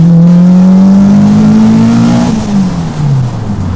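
A 2020 Caterham 360S sports car's engine drones loudly and close while cornering, holding a steady tone before the pitch drops as the driver backs off the throttle.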